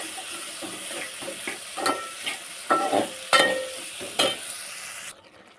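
Village-style fish frying in a pan with stirring, a steady sizzle and hiss broken by scraping strokes and louder splutters, close by, then cutting off near the end.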